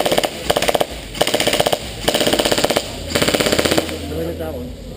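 Airsoft guns fire BBs at a target in four loud rapid-fire bursts of sharp mechanical clatter, each lasting about half a second to a second, separated by brief pauses.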